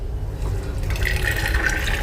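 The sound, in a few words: pouring ground rice into hot water for kheer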